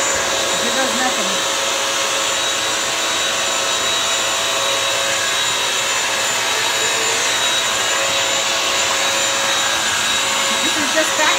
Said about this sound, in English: This is just vacuuming right now.